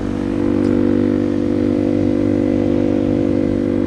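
A bootleg motorcycle idles steadily close by, a loud continuous low engine drone with a constant throbbing rumble and no revving, with no voices.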